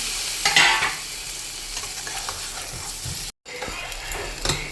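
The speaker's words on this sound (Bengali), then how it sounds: "আলু ডিম ভাজাটা দিয়ে মশলার মধ্যে কষিয়ে নিচ্ছি" Fried duck eggs and potatoes sizzle in spice paste in a pan while a spoon scrapes and stirs repeatedly, with a brief dropout partway through before the frying continues.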